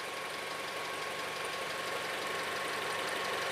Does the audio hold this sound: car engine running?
yes